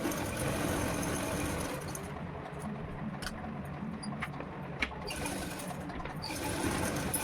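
A sewing machine runs steadily, stitching the neck and waist seams of a blouse, its continuous close mechanical whir holding nearly unbroken for several seconds with faint clicks over it.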